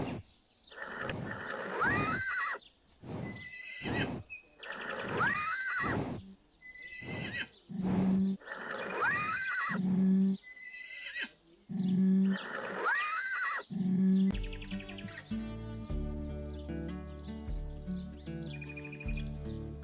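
A horse in the Avatar World video game neighs repeatedly in bright, rising whinnies, with hoofbeats and bird chirps, before music takes over near the end.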